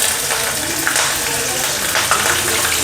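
Green chilies dropped into a pan of frying peanuts, giving a steady close hiss and crackle of sizzling oil that holds for a few seconds without talk.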